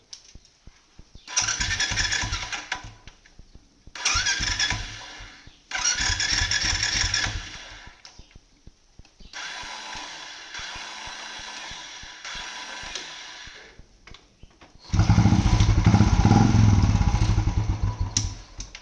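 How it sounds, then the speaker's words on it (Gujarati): A Royal Enfield Bullet motorcycle's electric starter cranks with a clacking sound in several bursts of a few seconds each with pauses between, the engine failing to catch until a louder final run. "તો આપણે હમણાં સેલ માર્યો તો સેલ લાગ્યો નહીં, પણ અવાજ આવતો હતો ખટ ખટ ખટ ખટ"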